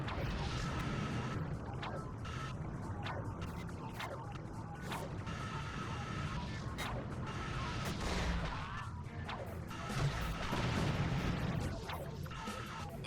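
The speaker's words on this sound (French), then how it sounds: "Un peu too much la bombe." Bomb explosions in the video game Ratchet & Clank 2, with repeated sharp bursts and crashes mixed with mechanical clatter over a busy game soundscape, while a voice speaks at times.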